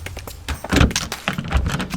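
A door is opened and shut in a room that holds fish and animal tanks, giving two low thuds about three-quarters of a second apart with faint rattling between them. No one speaks.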